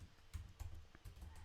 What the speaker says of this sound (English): I'm typing. I can't type very fast on this for some reason.